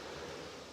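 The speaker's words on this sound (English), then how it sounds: "sorry, you can hear my fountain" An outdoor water fountain splashes with a steady, faint broadband hiss, continuous and unbroken, with no voices over it.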